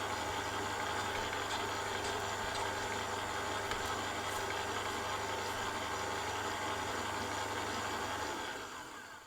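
Bakery dough mixer running steadily on first speed, a low continuous mechanical drone with a hum that carries on evenly and fades toward the end.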